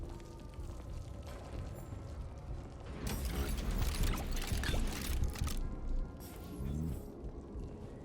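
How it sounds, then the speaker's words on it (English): Water leaking from pipes in Atomic Heart makes a continuous pouring and splashing rush, swelling louder in the middle, with faint mechanical creaks in the background. "Why are all of the pipes always leaking?"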